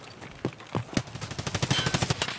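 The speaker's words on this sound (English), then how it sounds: "She's getting shot from the left, mister. You're getting shot from the left." Rapid bursts of automatic gunfire in the video game Escape from Tarkov, starting with a few separate shots and building into a dense, steady volley of closely spaced reports at mid distance.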